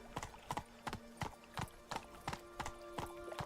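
Horse Roach's hooves clip-clop in The Witcher 3, a steady, evenly spaced walking rhythm of roughly nine to ten distinct hoof strikes, close and clear over a faint background tone.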